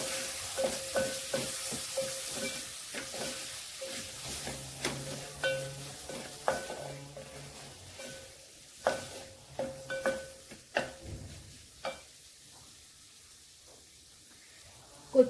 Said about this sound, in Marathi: मसाले चांगले परतून झाले की यामध्ये टोमॅटो घालूया